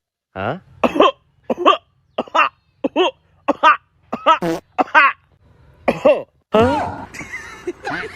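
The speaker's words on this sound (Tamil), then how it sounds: "என்னடா முரட்டு இருமலா இருக்கும் போலியே" A string of short, harsh coughs in quick bursts, close and loud, followed by a longer rough fit at the end.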